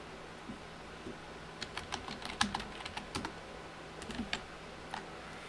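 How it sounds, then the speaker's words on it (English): Bursts of keystrokes on a computer keyboard, clustered clicks in quick irregular runs with short pauses, fairly close and quiet against a steady low hum, no talking. "Just typing in some caster ready."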